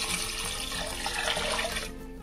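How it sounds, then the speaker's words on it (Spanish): Water poured from a container into a pot of seafood cream during cooking: a steady, hissing splash for about two seconds that tapers off at the end. "ahora solo faltaría echar un poquito de agua"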